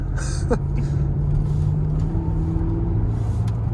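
Steady engine drone from a supercharged 5.0 litre Range Rover L322 under acceleration, a continuous low hum heard from nearby with faint whirring tones and a couple of brief clicks, no talking.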